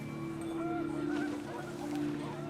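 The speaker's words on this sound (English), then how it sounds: "panicked geese appeared and quickly went" Panicked geese honk repeatedly in What Remains of Edith Finch, several overlapping honks over a steady low background hum, close and fairly loud.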